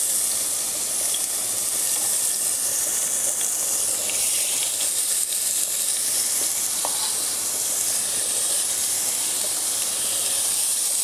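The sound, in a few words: vegetables sautéing in oil in pot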